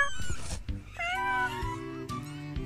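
A cat meowing, several close, drawn-out meows and a whiny caterwaul over about three seconds, with a few clicks between calls.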